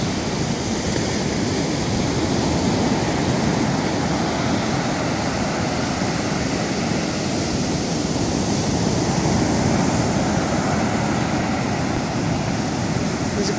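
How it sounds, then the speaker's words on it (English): Steady ocean surf washes over a beach at sunrise, a continuous broad roar of breaking waves with no distinct pauses. "There's a pretty nice surf out here this morning"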